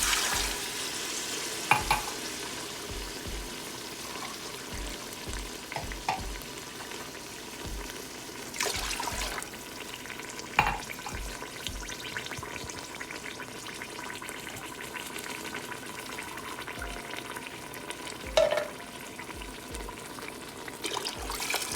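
Water poured into mutton masala in a pressure cooker for mutton pulao, heard as a steady sizzle and stirring sounds with a few sharp clinks and knocks against the pot.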